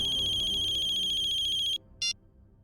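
A telephone rings with a fast warbling electronic trill for nearly two seconds, then stops; one short burst follows after a brief gap, loud and close.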